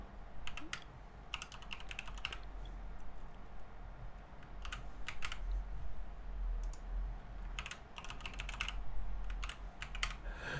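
A database password is typed on a computer keyboard in several short clusters of quick key clicks separated by pauses, over a low steady background hum.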